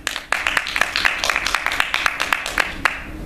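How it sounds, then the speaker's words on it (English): Dental students applaud in a room, a bright burst of close, uneven hand claps that runs on for a few seconds, with some sharper individual claps standing out. "Give yourselves a round of applause"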